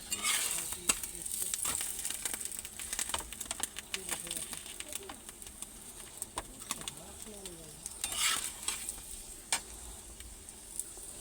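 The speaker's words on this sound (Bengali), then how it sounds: "আমি একটা একটা করে ভেজে নিচ্ছি এরকম করে করে" Rolls frying one at a time in a shallow pan, a steady sizzle of oil with frequent scraping and tapping of a spatula, while a voice speaks now and then in the background.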